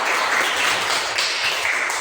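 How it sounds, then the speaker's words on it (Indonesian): Applause for a participant at a religious teaching session, a brief steady wash of clapping filling the space, fairly loud and unbroken with no voices over it. "Tepuk tangan untuknya."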